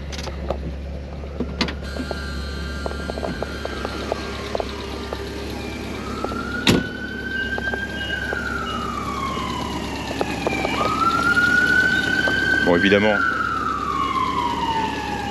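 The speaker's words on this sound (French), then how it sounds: "au mauvais moment passent les pompiers" A fire engine siren wails and rises as it passes, growing louder toward the end, under a nearby idling 1986 Alfa Romeo Spider Graduate engine and a brief spoken phrase.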